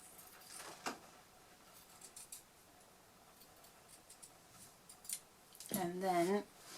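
Scissors round the corners of a felt square for a millinery percher hat. A handful of faint, close snips are scattered over quiet room tone, and a brief voice-like sound comes near the end.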